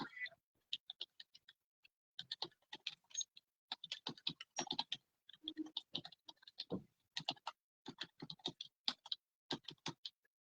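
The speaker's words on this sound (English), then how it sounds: "I'm just typing up our little thing to put in chat throughout the live." Someone types on a computer keyboard during a live chat stream, producing quiet, rapid clusters of key clicks in irregular bursts with short gaps between them.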